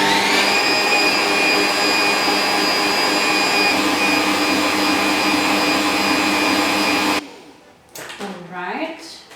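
A mixer whirs loudly and steadily at high speed while whipping meringue with sugar syrup for a lemon meringue pie, then shuts off and a voice speaks briefly.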